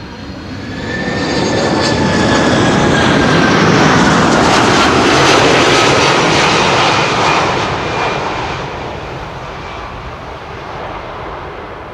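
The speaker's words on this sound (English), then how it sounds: "after this there should be another 747 arriving from Miami, Florida" A Boeing 747, a 24-year-old jet, arrives at Amsterdam Schiphol Airport with a loud, broad engine roar. The roar swells over the first seconds, holds steady near the middle, then eases slightly toward the end. No one speaks.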